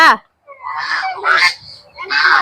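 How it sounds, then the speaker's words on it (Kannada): A duck gives a short burst of loud, nasal honking quacks, three or four calls in quick succession, close by. "ಕ್ವಾಕ್ ಕ್ವಾಕ್ ಅಂತ ಐತ್ ನೋಡು"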